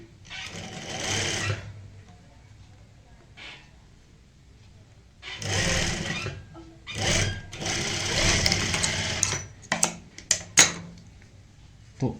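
A sewing machine stitching lace onto a neck design runs in several short bursts, close and fairly loud, with a pause between runs and a few sharp mechanical clicks and taps at the end. No one speaks.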